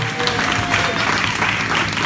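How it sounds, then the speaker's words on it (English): Applause from the audience at a Kiwanis club event, a steady wash of clapping throughout with a faint murmur of the crowd, no distinct speech over it. "I want to give you a big hand, a big round of applause"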